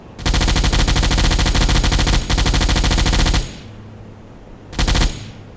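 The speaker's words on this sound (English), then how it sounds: "This is what the anti-aircraft gun is for. Shooting junks and sampans." An anti-aircraft gun in Silent Hunter IV fires at junks and sampans at long range, a loud rapid stream of shots in a long burst with a short break, then a brief second burst.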